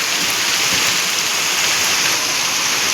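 Heavy rain pouring down at night, a dense, steady hiss of water that stays loud and even throughout with no break.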